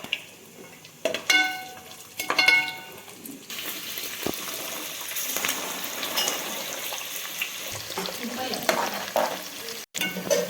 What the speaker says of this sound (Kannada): ಇದು ಉಳ್ಳಾಗಡ್ಡೆ ಎಲ್ಲ ಸ್ವಲ್ಪ ಗೋಲ್ಡನ್ ಬ್ರೌನ್ ಆಗುವಂಗೆ ಫ್ರೈ ಮಾಡ್ಕೋಬೇಕು